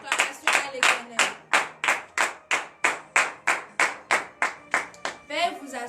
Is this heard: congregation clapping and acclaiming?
yes